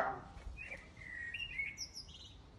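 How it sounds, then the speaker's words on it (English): Small birds chirp and tweet outdoors in a series of short, high calls, fairly faint and distant, continuing through the whole stretch with no talking over them. "You can hear all the birds outside as well."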